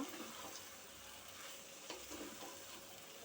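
Pasta in tomato sauce is stirred slowly in a pan, a soft, wet sizzling and sloshing with a few gentle scrapes, close and low in level, no voices.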